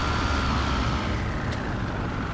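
Engine of a bus in the Tourist Bus Simulator game, a steady, loud low rumble with a constant droning hum that continues without a break.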